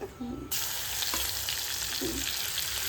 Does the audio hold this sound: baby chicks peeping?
no